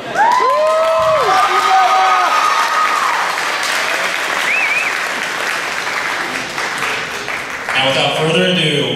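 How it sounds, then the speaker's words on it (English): A school variety show audience breaks into loud, sustained applause with cheering, whoops and children's shouts, the crowd noise dense throughout and briefly shifting near the end. "this last round of applause is for me"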